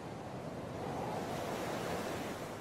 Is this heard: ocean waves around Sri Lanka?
yes